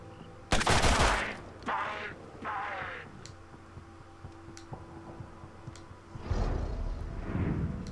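Gunshots in the video game Mutant Year Zero, a sharp loud shot near the start followed by scattered fainter impacts and bursts, ending with another heavier blast over low ambient hum.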